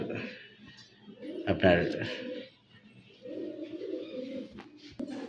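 A pair of fancy Super Mili pigeons coos in low, rolling phrases, a soft repeated murmur heard close by beneath someone speaking.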